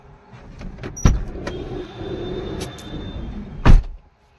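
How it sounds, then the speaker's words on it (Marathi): A vehicle starts up and pulls away outside a newly built house during a housewarming puja, with a steady engine rumble, a sharp clunk near the start and another loud thud near the end before it cuts off. "तिकडं आपल्यावाली गाडी सोडली"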